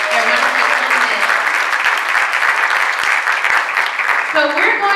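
Audience at a plenary on Tennessee abortion protections after Roe v. Wade applauds steadily, a dense, loud and sustained clapping that holds for the whole stretch, with a few voices faintly mixed in.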